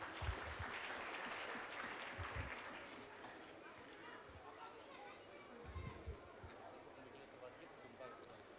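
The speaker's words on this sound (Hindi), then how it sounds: "एक ज़ोरदार ताली हो जाए इन दोनों के लिए।" An audience at a community gathering claps loudly for two people, with broad applause strongest early and fading under a voice addressing the crowd.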